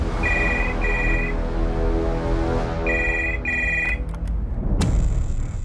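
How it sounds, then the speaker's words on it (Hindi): A telephone ringback tone on an outgoing call repeats in paired electronic trills, two bursts, a pause, then two more, over a low background bed, ending with a click as the line connects. "जबलपुर इस प्रेरणा पाल को फोन करते हैं"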